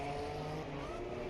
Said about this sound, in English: That turquoise blue and white Porsche. Very nice.